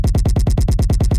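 A kick drum repurposed as a sub bass in an electronic remake, raw before any effects, thumping loud and fast in an even pulse with a fuzzy, distorted top, heard alone.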